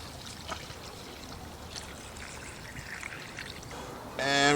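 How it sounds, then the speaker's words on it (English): Water is poured into a bowl to wash fish, giving a soft steady trickle and splash that runs throughout, followed by a brief louder clatter at the end. "So first thing I'm going to do is just pour some water in."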